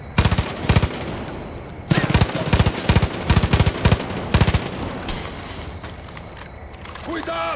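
Rifle fire in the video game Far Cry 5: loud bursts of rapid automatic shots in clustered volleys, a pause, then a longer stretch of repeated bursts before fading into quieter game ambience.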